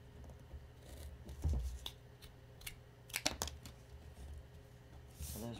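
Scissors snipping through material for a potting bench, a few quiet irregular cuts and rustles close by in a fairly quiet room.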